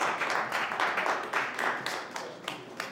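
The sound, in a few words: audience applause at a boxing press conference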